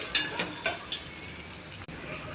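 Soft crackling and sizzling of tempering spices in hot oil for pesarapappu pongal, with a few sharp pops and clinks near the start, then a steady low fry.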